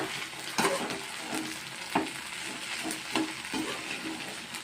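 Okra pieces cook in a covered pan, a soft steady sizzle with a few spaced clicks and scrapes, close and moderately quiet, with no voices.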